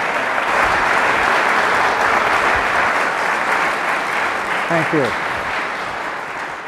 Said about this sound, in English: Please give a round of applause for Joseph P.